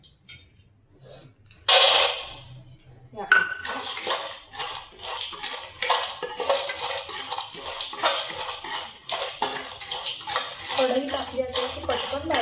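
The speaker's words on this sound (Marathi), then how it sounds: "तर आता यामध्ये परत 1 चमचा तूप घालून मी काजू भाजून घेणार आहे." Cashews roasting in a spoonful of ghee in a pan are stirred with a metal spoon, producing repeated clinks and scrapes against the pan that continue steadily, close and fairly loud.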